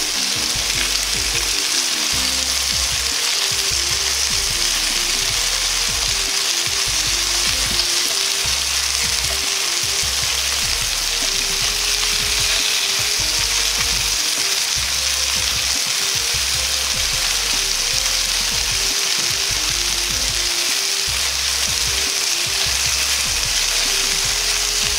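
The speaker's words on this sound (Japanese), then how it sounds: "裏面は1分くらいを目安に焼きます。" Chicken pieces for chili sauce pan-frying after being turned over, a loud continuous sizzle with a low rhythmic thumping of pan or utensil movement throughout, close and with no talk.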